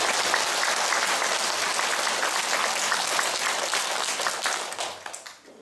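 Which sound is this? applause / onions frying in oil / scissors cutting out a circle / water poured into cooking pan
applause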